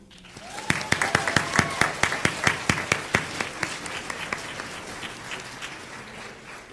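Audience applause for students at a school board meeting, a steady run of distinct claps in a room that gradually thins and fades toward the end.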